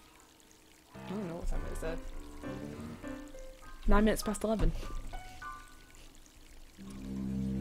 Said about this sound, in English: So this place is leaking now.